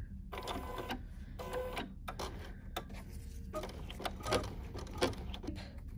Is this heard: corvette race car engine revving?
no